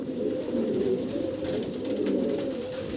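Pigeons coo in a steady, overlapping low murmur at a wholesale pigeon farm, with faint higher chirps repeating over it; the sound stays constant throughout, with no talk.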